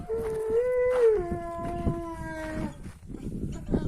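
A dog howls in a long, wavering, tonal cry that rises then slowly falls, close and fairly loud, followed by quieter outdoor noise and someone talking.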